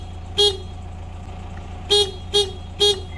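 Four short single-tone beeps from a worn seven-year-old stock van horn, one alone and then three in quick succession, over a steady engine idle.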